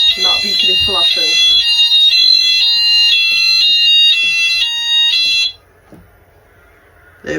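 A fire alarm sounder blares during a weekly test of a building's alarm system, a loud, high electronic tone repeating in steady pulses for about five seconds before cutting off abruptly, with a voice speaking briefly at the start.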